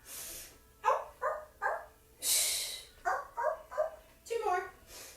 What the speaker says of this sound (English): Uh-oh, I hear my dogs.